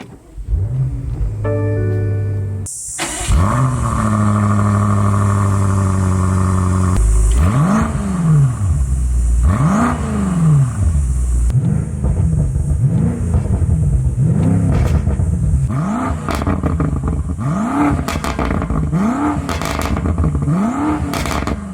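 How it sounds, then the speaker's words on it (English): A 2019 BMW M5 Competition fires up with a loud starter burst, then settles into repeated revs whose exhaust crackles and sharp pops ring out alone, close and loud, over about twenty seconds. "I'm just gonna go ahead and start it up and take a listen to the exhaust."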